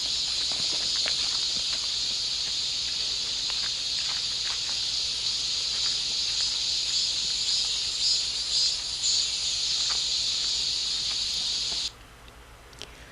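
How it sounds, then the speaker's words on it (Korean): A dense, steady cicada chorus drones loudly and continuously in a summer forest, a high shimmering buzz filling the air until it cuts off abruptly near the end. "여름 매미 소리를 들으며 숲속으로 들어가 볼게요"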